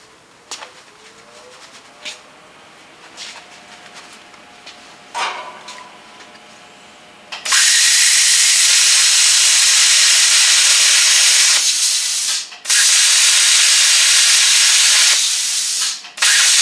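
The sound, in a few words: plasma cutter making a short cut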